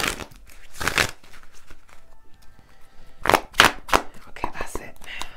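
Tarot cards are shuffled in quick riffling bursts, close and crisp, with pauses between and soft talk faintly around them.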